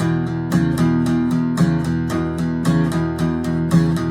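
An acoustic guitar picks back and forth between two strings in a steady, even rhythm, each note ringing clearly with no voices.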